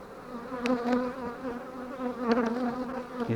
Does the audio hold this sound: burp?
no